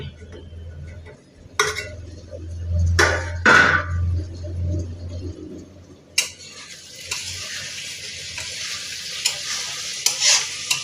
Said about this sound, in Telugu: ఒకసారి మూత తీసుకొని కలుపుకోవాలి